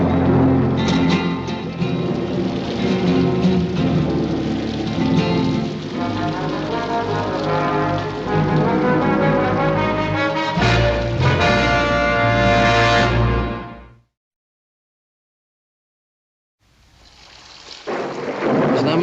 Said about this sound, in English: Not much of a rain, but it sure came up fast.